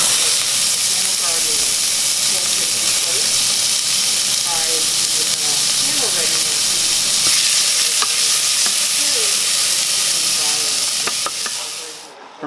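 Tomato sauce with garlic, olive oil and butter simmers loudly in a pan, a dense steady sizzle and hiss with scattered bubbling pops, fading out at the very end.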